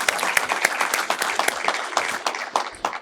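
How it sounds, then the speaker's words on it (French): Audience applause at a talk featuring a chef, with distinct sharp claps standing out from a steady wash of clapping hands throughout, fairly close and uninterrupted by speech. "Un applaudissement, s'il vous plaît."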